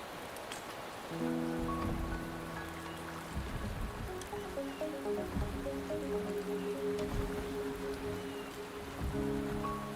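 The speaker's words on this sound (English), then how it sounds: "The rain is subsiding, and the sky will soon clear." Steady rain in the video game Wuthering Waves, a continuous close patter of drops on surfaces with light dripping and trickling, alone for ten seconds under faint tonal game music.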